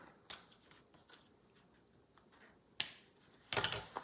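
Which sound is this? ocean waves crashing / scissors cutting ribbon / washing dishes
scissors cutting ribbon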